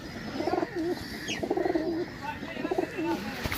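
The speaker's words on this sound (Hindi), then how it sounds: "बहुत आउट क्लास कबूतर है दोस्तों" Close, rhythmic cooing from fancy pigeons, several soft repeated coo phrases in quick succession.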